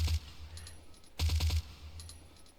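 Suppressed gunfire in Project Zomboid with the Simple Silencers mod, two quick bursts of muffled shots with a thin metallic clatter between, fairly close and moderately loud.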